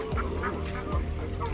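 Ducks honking and quacking close by in repeated loud overlapping calls while a dog chases them, the squawks rising in short agitated bursts over a low rumble.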